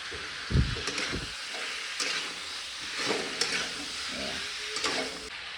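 Spices and onion sizzle and fry in a pan while being stirred in a home kitchen, with steady frying hiss and several scraping stir strokes, close and moderately loud, no talking.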